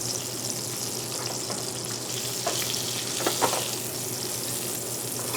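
Chicken thighs sizzle in a pan with chorizo while being browned for paella, a steady close frying hiss with a few faint stirring clicks, no voices.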